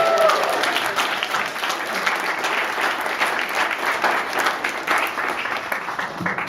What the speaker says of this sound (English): All right, having a round of applause for all our award winners this year.